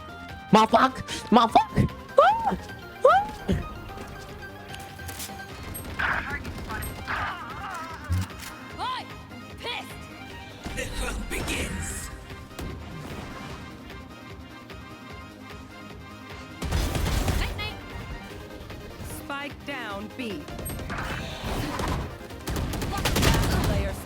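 Gunfire in the tactical shooter Valorant during a test of a gaming mouse: bursts of shots and sharp impacts come and go over a dense game soundtrack, with some louder volleys near the end.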